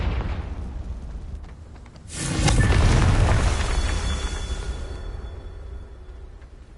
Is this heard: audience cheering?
no